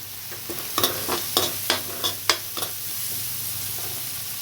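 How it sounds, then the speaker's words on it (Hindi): Chopped onions sautéing in a pan, a soft frying hiss broken by a series of sharp scraping strokes from stirring, close up with no speech. "दो 3 मिनट तक इसको से भूनेंगे प्याज को।"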